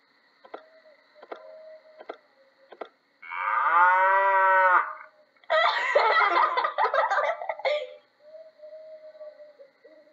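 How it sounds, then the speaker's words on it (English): A cow gives one long, loud moo, then a second noisy, drawn-out moo, with ticking clicks before and between the calls. "It is a cow."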